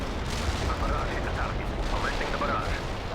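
Artillery barrage in the video game World in Conflict, dense rumbling blasts and booming impacts rolling continuously under a voice speaking over them.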